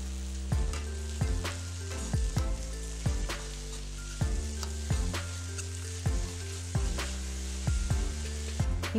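Radish sautéing in a pan with coriander leaves and salt, a steady frying sizzle broken by sharp, regular spatula scrapes and knocks about once a second, close and fairly loud, with no talking.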